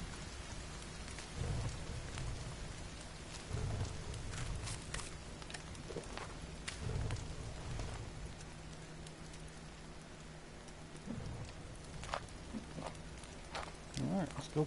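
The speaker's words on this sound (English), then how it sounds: "Oh yeah, it's raining." Steady rain pattering in the survival video game The Forest, a constant hiss with scattered drops and occasional low rumbles, while players talk intermittently over it.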